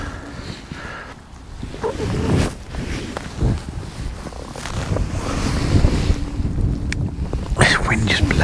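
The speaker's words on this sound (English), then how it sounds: "This wind just blows everything everywhere." Gusty wind buffets the microphone beside a winter fishing lake at a fishery match, a steady rushing roar with louder gusts that builds toward the end, with faint voices underneath.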